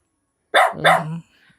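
A Doberman dog barks twice in quick succession at close range, followed by a short low growl and the start of another bark.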